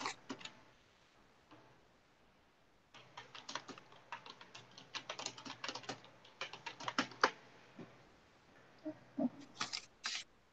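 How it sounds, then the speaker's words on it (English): Someone types on a computer keyboard in quiet, irregular bursts of light clicking keystrokes, with pauses between, close and faint. "I was texting or typing it for the chat"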